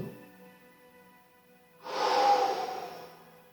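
Slow breathing from someone holding a seated forward stretch with ribs resting on the thighs: a faint quiet stretch, then a longer, louder airy exhale that fades gradually, close and alone.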